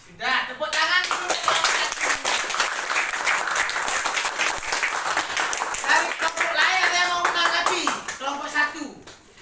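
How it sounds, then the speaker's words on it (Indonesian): Students in a classroom applaud together in a burst of dense, sustained clapping, fairly close and loud, while children's voices call out and chatter over it. "tepuk tangan dulu"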